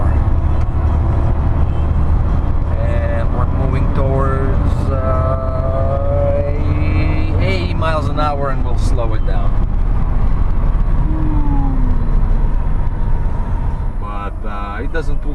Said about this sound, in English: foot down, first gear, and you can see the blower moving towards 60 miles an hour uphill